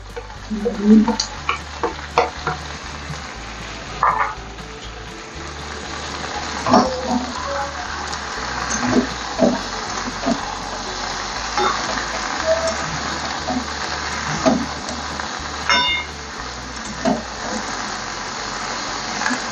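Bitter gourd and mixed vegetables are stirred together in hot oil, giving a continuous close sizzle broken by repeated scraping and clattering strokes of a spatula against the pan.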